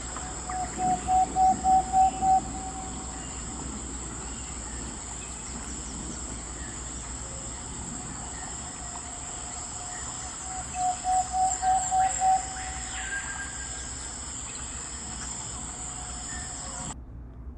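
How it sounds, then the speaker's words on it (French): Night ambience in French Guiana: a dense, steady drone of insects and crickets fills the whole stretch, with two short bursts of rhythmic pulsing calls near the start and again midway, and scattered faint bird chirps. "J'imagine qu'il doit y avoir des bruits d'animaux en plein milieu de la nuit qui doivent être hallucinants"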